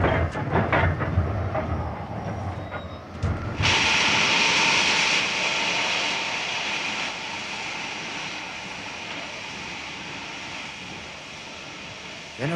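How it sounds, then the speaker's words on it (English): A train in motion gives a steady broadband rumble and hiss that swells sharply and then holds steady, with brief voices early on. "The train's slowing down."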